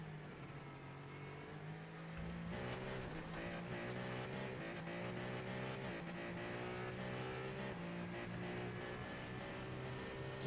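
A Ferrari 499P race car engine in iRacing at Le Mans drones and revs steadily, its pitch climbing and holding in a continuous, loud whine with no talking.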